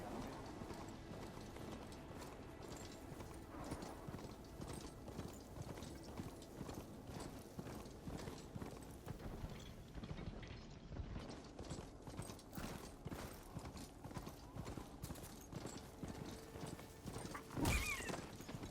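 Mechanical mount clip-clopping in Horizon Forbidden West, a steady stream of hoof-like footsteps with metallic creaks and clanks, continuous at moderate level with a brief whinny-like burst near the end.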